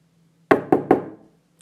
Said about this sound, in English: Gary, go get the door